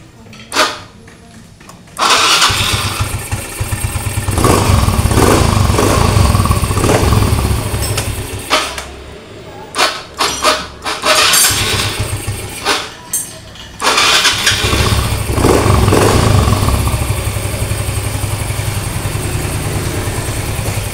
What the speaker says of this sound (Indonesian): Ketika double starter hanya bunyi kasar namun motor tidak mau menyala.